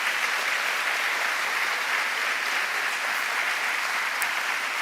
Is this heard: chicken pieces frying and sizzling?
no